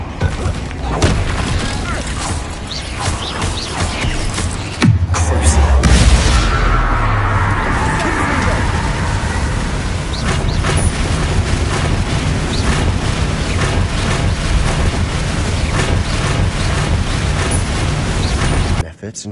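Bombarda and Confringo spell explosions in Hogwarts Legacy, a loud boom followed by a sustained roaring blast and crackling rumble during combat, with dense game sound throughout.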